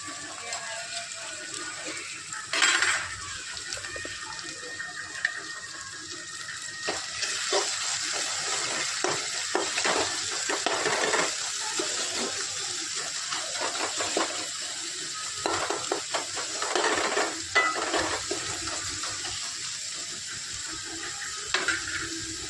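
Onions sizzling and frying in a pan while a mutton dish is being cooked, with steady crackling and occasional scraping from stirring, bursts rising and falling throughout.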